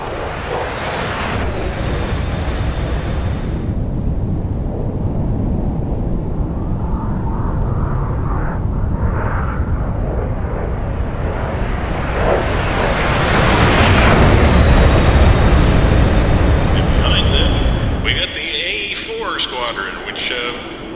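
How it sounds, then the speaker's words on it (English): F-86 Sabre jets of an aerobatic team flying at an air show, with a loud, sustained roaring jet whoosh that rises to a peak as they pass and then falls away, with a crowd and a commentator's voice underneath. "First of all, we have the aerobatic team of the Sabre Boys, Highland Spring and Molok 1 flying the F-86."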